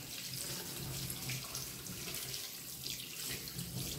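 Tap water runs steadily from a faucet over salted cod being rinsed in a sink, a continuous close splashing rush with no break.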